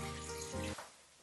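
A tap runs water for cooking, 60 ml measured out, with a steady hiss and a faint tonal hum that cuts off near the end, leaving quiet room sound.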